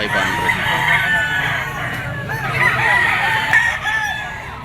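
A yellow-legged gamefowl stag crows nearby, a loud drawn-out cock-a-doodle-doo with a few clucks and other fowl calls mixed in against background noise.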